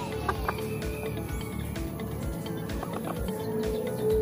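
A heavy Shamo or native hen of about two and a half kilos, close to laying, gives a few soft clucks beneath steady background noise.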